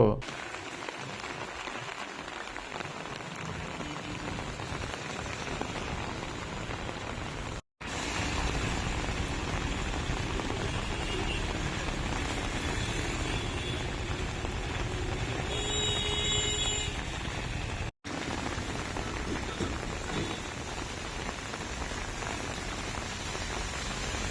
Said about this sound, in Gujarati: આજે બપોરના સમયે પણ કેટલાક વિસ્તારોમાં વરસાદ પડ્યો હતો